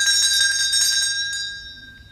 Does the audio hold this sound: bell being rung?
yes